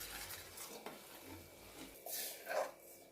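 Chana dal being stirred and fried in a pan, with a soft scraping stir, faint sizzle and a couple of brief louder utensil scrapes near the end, no talking.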